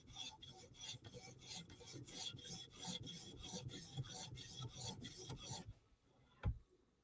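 A Chris Reeve Umnumzaan tanto knife blade is stroked rapidly and rhythmically across a fine polishing stone, making a quiet rasping scrape for about five seconds. The strokes stop, and a single soft tap follows.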